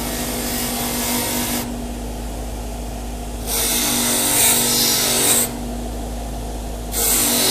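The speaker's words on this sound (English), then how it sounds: "So we're over on the grinder wheel. Let's kick this on." Bench grinder wheel grinding painted metal for arrowheads, bursts of harsh bright grinding alternating with the steady hum of the motor running between passes, close and loud.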